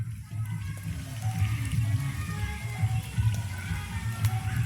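Irrigation water running into a village cassava field, a low steady gurgling flow with soft splashing, fairly quiet and continuous.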